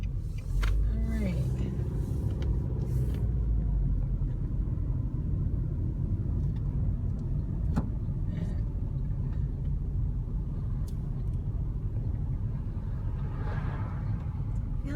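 A car drives along the city streets of Joliet with a steady low road rumble and engine drone throughout, heard from inside the vehicle, with faint occasional talk.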